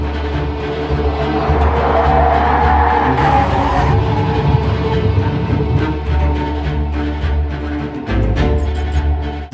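A Rolls-Royce Cullinan with carbon ceramic brakes brakes hard from about 125 mph to a full stop, a loud sustained rush of tire and road noise with low engine drone, easing off toward the end.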